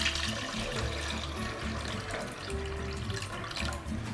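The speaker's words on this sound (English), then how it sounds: "transfer the liquid from one bottle to the next, just like this" Metabisulfite solution poured through a funnel from one wine bottle into the next, a steady trickling, gurgling flow of liquid heard close up for several seconds.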